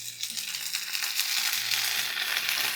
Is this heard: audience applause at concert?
no